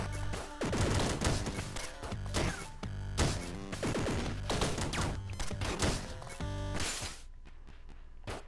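Rapid gunfire from the Downwell video game, bursts of shots stacked over loud music and effects, dense and continuous for most of the stretch before cutting out near the end.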